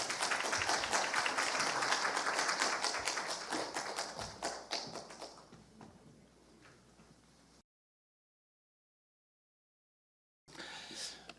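A large audience at the Hongneung Defense Forum claps to welcome the President of the Korea Institute for Defense Analyses to the stage. The dense, loud applause thins out over several seconds, falls silent, then returns briefly near the end.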